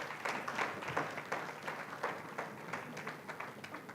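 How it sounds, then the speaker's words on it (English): An audience at a West African media conference applauds a panel with steady, moderately loud clapping from many hands, heard from some distance. "A round of applause for my panel,"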